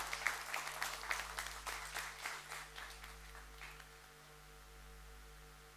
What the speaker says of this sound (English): How do we appreciate it? With a huge round of applause and welcome them.